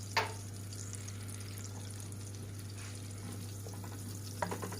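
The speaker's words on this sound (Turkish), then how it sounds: "ocağımı yaktım ve tereyağımı, kana yağımı ve zeytinyağımı ilave ediyorum." Butter, canola oil and olive oil heat together in a pot over a stove, giving a faint, steady sizzle against a low hum, with a couple of soft clinks at the start and end.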